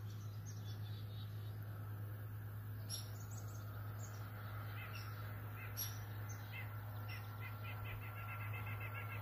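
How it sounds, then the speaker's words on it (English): Crows and small birds call outside near a hammock camp in winter, with scattered caws and chirps rising over a steady low hum, moderately near with no talking. "And even in the wintertime, we have birds here."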